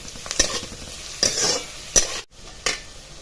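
Onion sautéed for a spicy bazaar-style amti, with a few sharp spoon scrapes against the pan over a continuous light sizzle, close by.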